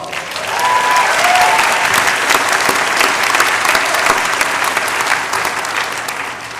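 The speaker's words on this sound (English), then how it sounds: "Give yourselves a round of applause." Graduates at a spring commencement ceremony break into loud, sustained applause from a large crowd, swelling quickly and holding steady before easing slightly at the end, with faint cheers mixed in.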